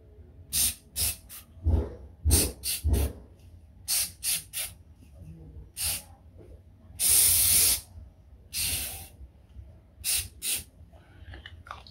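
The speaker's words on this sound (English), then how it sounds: "So here we go, a bit of hairspray. Spray dressing." Hairspray misted onto a dressing over the ear after mastoidectomy surgery: one sustained, close hiss of under a second, set among soft clicks, handling noises and breathing.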